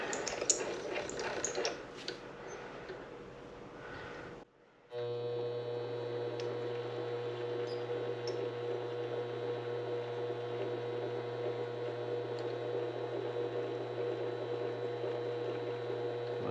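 A lathe bores out the hole in a ring, heard as a steady, droning motor hum with a faint whine that starts abruptly after a brief hush and runs on evenly.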